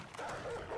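A dog barks and yips in the survival video game 7 Days to Die, a short burst of close canine vocalizing over a steady in-game background.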